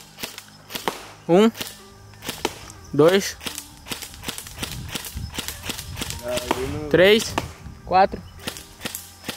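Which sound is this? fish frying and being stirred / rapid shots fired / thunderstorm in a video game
rapid shots fired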